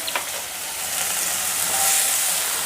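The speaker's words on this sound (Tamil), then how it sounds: "எண்ணெய் காஞ்சிருச்சு. இந்த ஆனியன் இந்த வெங்காயத்தையும் அதோட போட்டு" Chopped onion and green chilli sizzle steadily in hot oil in a pan, a close, continuous bright frying hiss that grows slightly louder, with no talking.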